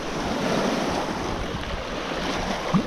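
Rough waves wash steadily onto a riverbank shore with gusty wind buffeting the microphone, a continuous loud surf roar with no talking.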